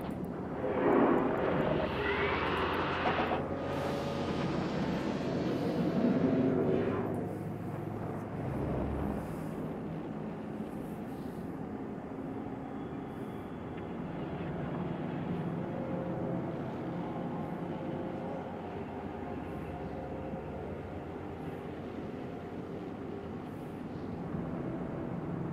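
A spaceship's afterburner engine in the game Eve Online gives a deep, continuous jet-like roar, swelling louder early on and then settling into a steady, rumbling drone.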